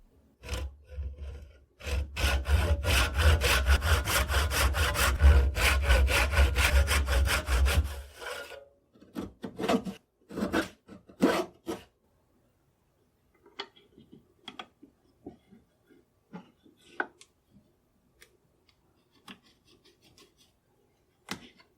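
A rasp or saw works excess wood out of the barrel channel of a duffle-cut gun stock, with steady scraping strokes for several seconds, then scattered short scrapes and taps, close and fairly loud.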